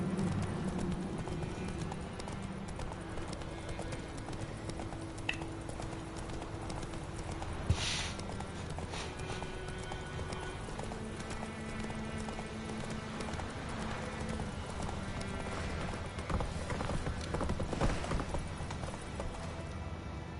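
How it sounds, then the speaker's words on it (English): Horse hooves clip-clopping in The Witcher 3 video game, a steady, continuous trot heard close over game ambience, with a faint voice in the background. "Whoa there, Roach."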